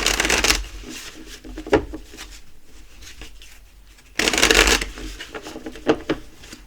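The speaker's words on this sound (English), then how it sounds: "Going to shuffle 3 times." Tarot cards shuffled in two quick riffling bursts with a few soft taps and pauses between, close and fairly loud.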